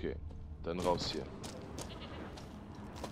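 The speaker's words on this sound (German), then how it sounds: "Ah, ich höre eine Ziege." A goat bleats in The Witcher 3, one wavering bleat near the start, then faint clanks and game ambience underneath, fairly quiet overall.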